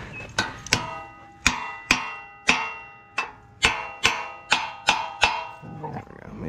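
Hammer blows struck on a seized part of a woodsplitter, about eleven sharp metallic clanks at an uneven rhythm, each ringing briefly, close and loud with no talking.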